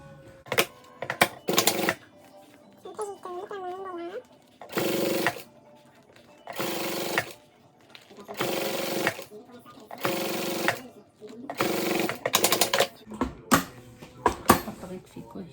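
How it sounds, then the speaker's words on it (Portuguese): A sewing machine stitches the lining of a heart-shaped bag in several loud, close bursts of rapid mechanical chatter separated by pauses, with someone briefly speaking between runs. "Vou passar uma costurinha aqui."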